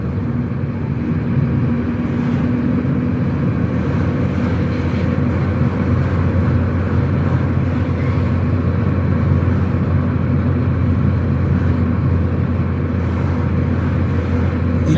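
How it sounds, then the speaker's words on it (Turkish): Cabin of a car on a driving-test lesson, the engine droning steadily with a low rumble as the driver lifts off the throttle, works the clutch into third gear and accelerates again, continuous and close. "Gazı bırakıp debriyaja basıp 3 alıp tekrar debriyajı bırakıp gaz vererek devam ediyorum."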